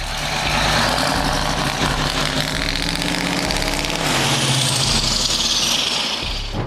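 A Scania T500-based convertible show truck with a 16-litre twin-turbo V8 rumbles loud and close, its deep engine roar steady and continuous, swelling slightly as it revs partway through.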